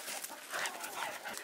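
Dogs pant in quick, faint, breathy bursts at close range, with soft snuffling and no talk.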